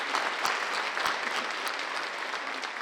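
An awards ceremony audience at a public safety event breaks into a sustained round of applause, dense and even with a few sharper claps standing out, filling the room without pause.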